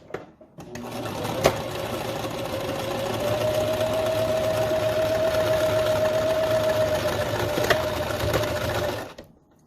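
A sewing machine runs in one continuous, close, steady whir as it stitches a face mask seam over elastic, lasting about nine seconds without pause.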